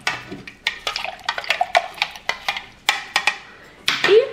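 A teaspoon clinks and swishes against a container in a quick series of sharp taps, stirring fabric conditioner into water close by, ending with a short watery slosh.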